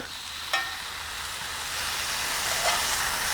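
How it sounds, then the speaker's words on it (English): Two large pieces of beef chuck searing in a lightly oiled pan, giving a steady, moderate sizzle that rises slightly, with a couple of faint clinks. "I want to sear the meat"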